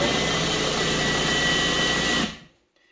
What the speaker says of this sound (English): I'm going to drill right down into the head of one of these screws